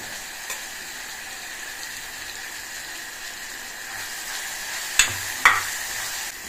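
Tomatoes fry in hot oil with turmeric for a Telugu drumstick egg masala curry, giving a continuous even sizzle, with a couple of sharp utensil clinks near the end and no talk.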